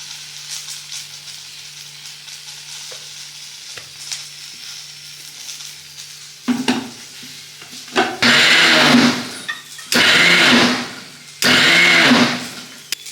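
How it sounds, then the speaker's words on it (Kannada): A mixer grinder whirs loudly in three sustained bursts, grinding masala with curd, after a quieter stretch of faint kitchen handling sounds. "ಮೊಸರನ್ನು ಹಾಕಿ ಇನ್ನೊಂದು ಸಲ ನಾನು ರುಬ್ಕೊಳ್ತಾ ಇದ್ದೀನಿ."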